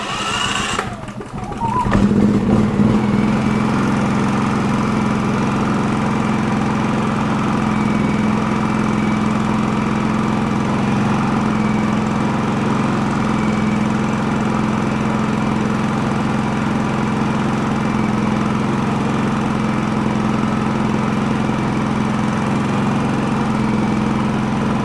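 Champion 4500W portable generator engine running steadily after a brief startup burst, a loud continuous mid-pitched drone with constant vibration and a faint hum, no talk over it.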